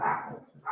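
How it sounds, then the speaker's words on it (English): A recorded dog-bark sound effect played through a speaker, giving a short burst of barking with two quick yaps close together, fairly clear and alone. "he put dog barking sounds on"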